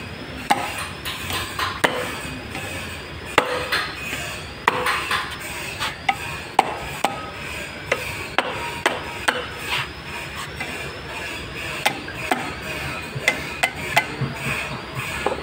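A hammer strikes an engine head to test a freshly installed valve seal, valve spring and valve lock, making a long series of sharp metallic knocks at an irregular rhythm, close and fairly loud.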